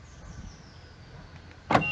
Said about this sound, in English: the car automatically locks the side mirrors and it locks the door